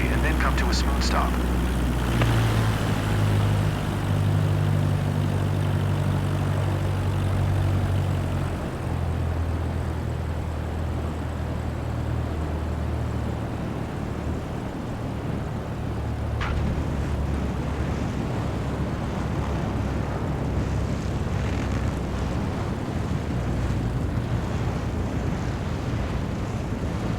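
Aircraft landing on a runway in Microsoft Flight Simulator 2024, a steady engine and airflow rumble with low droning tones running throughout the clip, under a talking voice.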